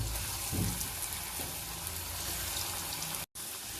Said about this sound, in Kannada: Deep fry.